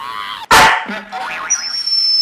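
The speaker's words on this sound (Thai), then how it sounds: "นางไม่ไหวแล้ว ฟังจากเสียงเห่า" A dog barks once sharply and loudly, followed by short whimpering yips and whiny squeaks, near and clear with no talk over it.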